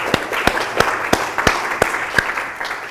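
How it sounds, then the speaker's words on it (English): A class claps together as a round of applause, with loud, close, irregular hand claps over about three seconds. "give yourself a round of applause for finalizing project 2"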